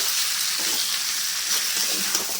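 Mutton pieces fry in hot oil with ground spice paste, green chilli and turmeric for a red mutton curry, a steady loud sizzle with soft scraping stirs throughout.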